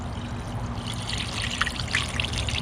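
BlueDevil radiator flush poured from its bottle into the drained aluminum radiator of a Honda Civic, a steady close trickle and gurgle with faint splashy bursts, no talking.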